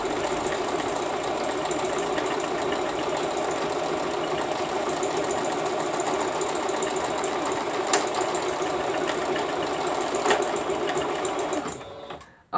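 A sewing machine stitches an appliqué, its motor whirring in a fast, even, steady chatter from close by for several seconds before stopping abruptly at the end.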